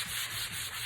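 Sandpaper is rubbed by hand across a smooth wooden board in quick, even back-and-forth strokes, a close, soft scratchy hiss with a regular rhythm.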